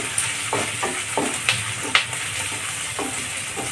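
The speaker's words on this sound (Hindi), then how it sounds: "ऐसे चला चला के फ्राई कर लेंगे।" Onions stirred and fried in a pan over a medium gas flame for an aloo-methi dish, a steady sizzle with repeated scraping strokes of the spoon, close and alone.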